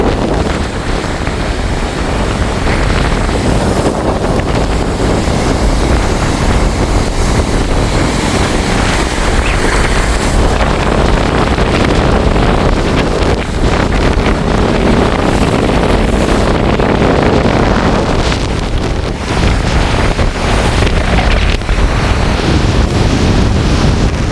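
Heavy storm seas pounding the shore at Point Pedro, continuous loud wave roar mixed with strong gusting wind rumbling across the microphone, steady for the whole stretch with no speech.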